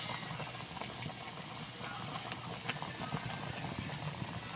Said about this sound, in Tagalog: Nagbukal-bukal na siya guys.